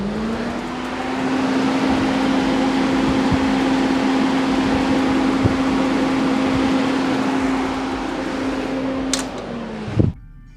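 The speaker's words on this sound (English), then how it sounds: "let's turn the fans on and see how they work" Radiator cooling fans on a sand rail run with a loud, steady electric whir and hum that holds evenly for about nine seconds before cutting off abruptly, followed by a brief clunk.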